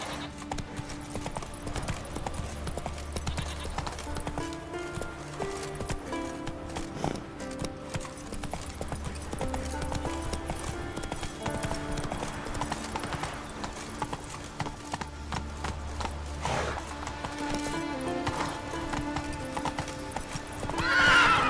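Horse hooves clip-clopping steadily in The Witcher video game, with a neigh and whinny among the rhythmic steps, set against continuous game music.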